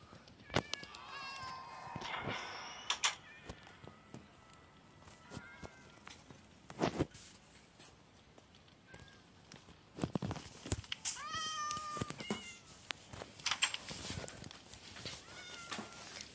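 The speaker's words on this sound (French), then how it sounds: "Oh, regarde les chats horribles." Several cat meows, some harsh and drawn out, come in scattered bursts over a faint steady background, with a few sharp clicks in between, in the game Zooba.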